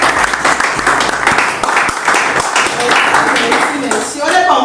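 An audience claps and cheers loudly for a few seconds, with voices calling out over the dense applause.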